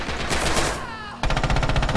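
Rapid automatic gunfire in a World War II multiplayer shooter, a quick burst followed by a short gap and then a dense stream of close, loud shots.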